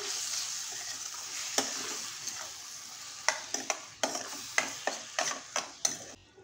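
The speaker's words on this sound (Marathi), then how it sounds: "हे जे दोडका किसलेला आहे ना तो आपण ह्याच्यामध्ये ॲड करायचा आहे. व्यवस्थित आपल्याला परतून घेऊया." Grated ridge gourd is stir-fried in hot oil in a pan, giving a soft sizzle broken by a rapid series of sharp spatula scrapes and taps that grow more frequent toward the end.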